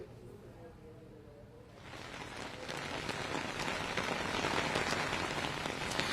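Heavy monsoon rain in Jaipur starts as a soft hiss, then swells into a dense, loud downpour drumming on surfaces that keeps building to the end.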